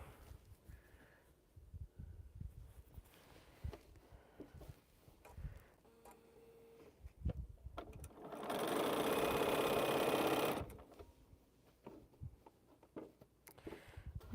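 A sewing machine stitches quilt block rows together in one continuous two-second run midway through, between quiet handling sounds in a calm room.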